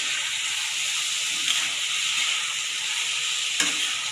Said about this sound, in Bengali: এই হলো আজকের রাতের গরম গরম আলু ভাজা।